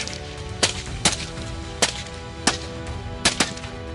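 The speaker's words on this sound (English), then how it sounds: "gunfire erupted in rapid succession." Rapid gunfire aimed at wild hogs in a Texas farm field cracks out in sharp, loud single shots, six or so spaced irregularly with one close pair, over a steady background hiss and no talking.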